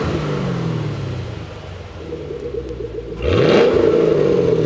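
A Camaro engine idles with a low rumble, then revs up sharply near the end, growing louder and rougher.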